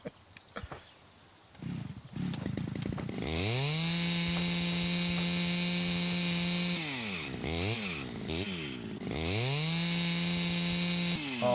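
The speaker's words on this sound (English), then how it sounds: "Glen's just revving it up for fun." Chainsaw in the House Builder video game revved hard and loud, with sustained high-pitched engine whine that drops and climbs again in repeated throttle bursts.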